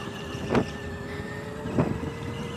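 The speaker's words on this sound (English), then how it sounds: "And now I'm going full speed through this section, approaching it over here, slow in, on the brakes, fast out, back on the power, flat out." An electric go-kart motor whines steadily with a faint tonal hum, rising in two brief louder surges about a second apart as it powers out of a corner, with no voices.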